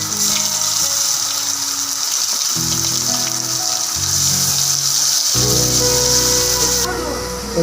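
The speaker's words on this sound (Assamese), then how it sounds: "এতিয়া মই মছলাটো ইয়াত বঢ়িয়াকৈ ভাজি ল'ম" Masala paste fries in a wok with a little sugar for an Assamese fish curry with mustard seeds, giving a steady, close, hissing sizzle that runs throughout beneath soft background music.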